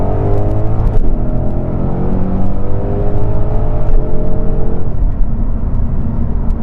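A 2020 Ford Mustang Shelby GT500 engine roars loudly from inside the cabin, revs climbing in pitch through a couple of gear pulls.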